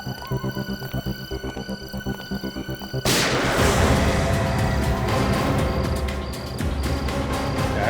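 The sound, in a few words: gunshot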